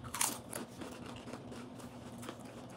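Spicy Mexican chips crunching close up, a sharp loud bite followed by several quieter crackling chews over nearly three seconds.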